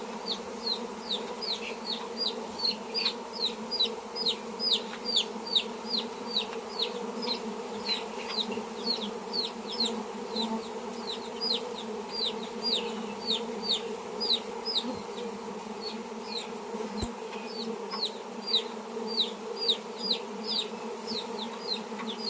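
A honeybee swarm that has left its hive and is being returned to its original box hums in a steady, layered drone close by. The buzz pulses gently, with faint high chirps above it.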